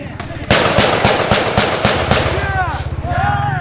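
Sharp gunshots and blasts crack out in a rapid regular series during military training, loud and close, followed by whistling and shouting voices.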